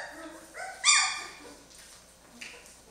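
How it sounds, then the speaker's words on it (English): Two-week-old Jamthund puppies, an old world hunting breed, let out high whimpers and yips up close, with one sharp louder bark-like cry near the start of the second and a short squeak later. "these pups here, boy, this is some serious group of dogs."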